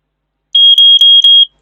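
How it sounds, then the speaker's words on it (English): An event check-in phone scanning an already used barcode emits a loud, close series of four clipped high-pitched electronic beeps in quick succession, each about a quarter second long, with no speech. "the phone will beep to tell you that this barcode is already used"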